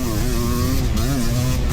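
A Yamaha YZ500 two-stroke motocross bike races against 450s at a national championship, a loud, close engine buzzing and revving continuously with rising and falling pitch.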